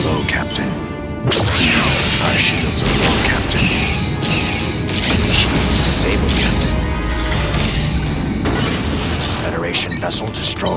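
A spaceship blows up in a space combat video game, a loud sustained roar of crashing, booming explosions and clanking debris. A synthetic voice speaks over the blasts throughout.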